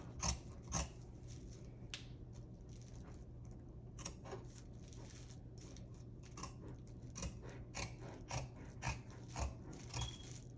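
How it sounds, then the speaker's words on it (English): Scissors snip through sublimated bodysuit fabric in a quiet indoor setting, a scattered series of soft, sharp cuts at an uneven pace over a faint steady hum. "So I'm going to go ahead and cut this out."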